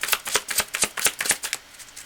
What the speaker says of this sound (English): I'm just going to finish shuffling.